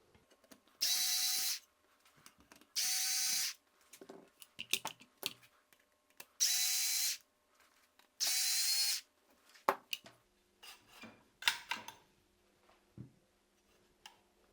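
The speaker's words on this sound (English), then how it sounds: "I have an electro screwdriver." Electric screwdriver driving screws on an AK-12 rifle kit: four loud, steady whirring bursts of about a second each, evenly spaced, followed by scattered clicks and handling knocks of parts and tools.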